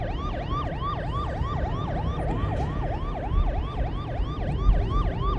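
Police car sirens wailing in a Chinese city street, a rapid repeating whoop of rising and falling tones, loud and continuous over low traffic rumble.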